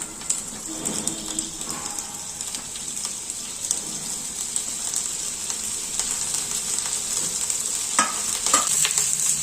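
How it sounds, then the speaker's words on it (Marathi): Onion frying in a little leftover oil in a pan for hotel-style paneer Hyderabadi, a steady close sizzle and crackle with occasional stirring scrapes, continuous throughout without talk. "त्यातच आपल्याला थोडासा आपण जो घेतलाय कांदा तो फ्राय करून घ्यायचा आहे"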